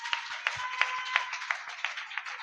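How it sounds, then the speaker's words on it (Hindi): A church congregation at a prayer meeting claps in a steady, rhythmic beat, with sharp, evenly spaced claps over a faint sustained tone and no speech. "जिसको समझ आ रहा है वो यीशु मसीह की महिमा के लिए ताली बजा दे"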